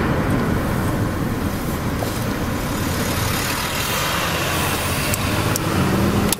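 A 1989 Buick Skylark Custom with a GM 3100 V6 accelerates along a street up to about 40 mph, its engine a steady, loud drone blended with road and tire noise throughout, no voices.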